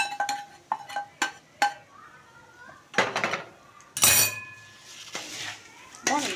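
A spoon scrapes and clinks against a pan while poha is stirred with a tempering of Kashmiri red chilli, giving several sharp metallic knocks and scrapes at an irregular pace, close and fairly loud.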